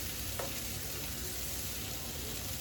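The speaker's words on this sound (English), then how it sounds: "I'm going to let that kind of just give it a nice little sear" Skin-on salmon sears in a hot pan, giving a steady, even sizzle that holds at one level throughout, with one faint brief tap early on.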